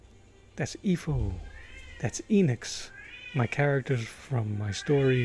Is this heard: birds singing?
no